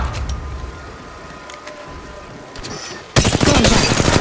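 A sudden burst of loud, rapid gunfire in a video game breaks in near the end after a quieter stretch of ambient game sound and scattered faint clicks, with no talking.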